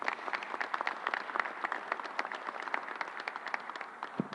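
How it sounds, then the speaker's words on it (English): A crowd applauds at a New York vaccine site briefing, with many hands clapping in a steady, fairly dense patter of distinct claps, holding even in level for the whole stretch. "Let's give them a round of applause."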